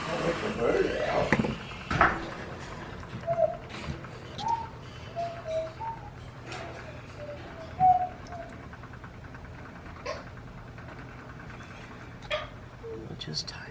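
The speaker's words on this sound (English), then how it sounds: "I'll let the bird out." A pet bird just let out coos softly in a string of short calls, mid-distance and fairly faint, with clatter and household noise around it.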